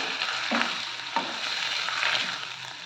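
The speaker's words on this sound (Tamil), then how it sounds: "கடைஞ்ச கீரையை இந்த சட்டியில் ஊற்றிக்கலாம்" Churned kummatti greens going into a hot clay pot with fried onions, giving a loud steady sizzle with a couple of soft scraping strokes, close up and with no voices.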